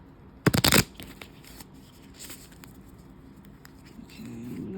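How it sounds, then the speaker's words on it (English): Tarot cards shuffled by hand, giving a short loud riffle burst early on, followed by faint scattered card taps and quiet handling noise. "So I'm gonna try and shuffle these a little."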